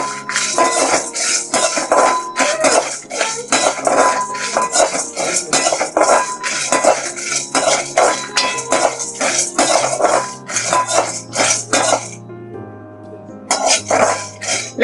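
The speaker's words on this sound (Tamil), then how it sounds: "ஆயில் ஊத்தாம ஃபர்ஸ்ட் வதக்கிக்கிறேன்" Chana dal, garlic and dried chillies dry roasting in a pan without oil, stirred with a metal spoon in loud, rapid rhythmic scrapes and clinks, with music playing underneath.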